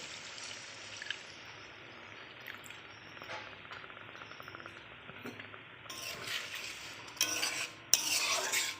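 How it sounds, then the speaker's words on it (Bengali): Water poured from a rinsed spice bowl into a pan of prawn malai curry, a splashing pour rising near the end among stirring and utensil clinks, with no talk. "এবার আমি জল দিয়ে দেবো একটু, সে বাটি মশলার বাটিটা ধুয়ে জল দেব"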